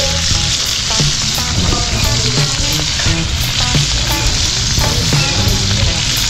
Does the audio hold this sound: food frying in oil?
yes